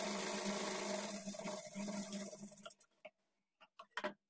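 A sewing machine runs steadily while stitching darts on a lining blouse, a close, continuous whirring drone that stops partway through, followed by a few short clicks and taps of fabric handling.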